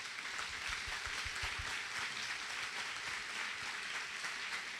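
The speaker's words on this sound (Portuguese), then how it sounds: "Aplauda bem forte ao Senhor Jesus." A church congregation applauding together at the close of a sermon: a steady, dense wash of many hands clapping, fairly near and continuous, with a few heavier low claps early on and no talk over it.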